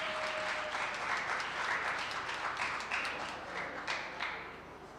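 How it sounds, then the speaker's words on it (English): Sustained applause from an audience at a stakeholder engagement meeting greeting a councillor, dense steady clapping throughout with no talk over it. "Please give him a round of applause."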